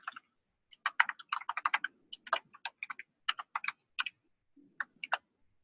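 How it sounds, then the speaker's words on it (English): Keys clatter on a computer keyboard as code is typed, in quick irregular bursts of crisp clicks with short pauses, close and fairly quiet. "I need to write some code in order to do that"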